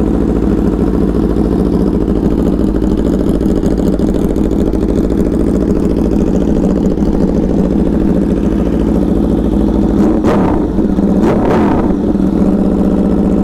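An Aprilia RSV4 motorcycle fitted with a LeoVince LV Corsa exhaust idles loudly and steadily, a dense, rumbling throb close by, broken near the end by a couple of quick throttle blips.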